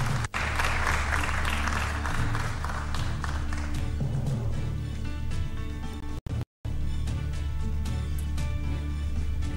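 Audience applauding an independent candidate, Esther Waringa Thairu, as she comes onstage at a Nairobi gubernatorial debate; loud, sustained clapping over steady hall hum and music, with a brief dropout near the end.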